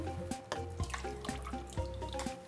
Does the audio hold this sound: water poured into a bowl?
yes